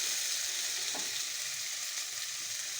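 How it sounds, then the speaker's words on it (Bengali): Ginger frying in a pan gives a steady, close, broadband sizzle with a faint stir partway through. No one speaks. "আদা কাঁচা গন্ধটা চলে যাওয়া পর্যন্ত একটু নাড়বো, নাড়াচাড়া করে নিয়ে"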